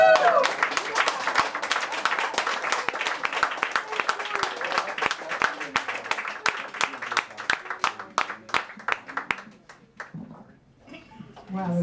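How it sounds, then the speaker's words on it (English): Audience applause following a live song performance, dense clapping that builds and holds for about ten seconds, then thins to scattered claps as a voice starts speaking near the end. "Keep applauding, keep applauding."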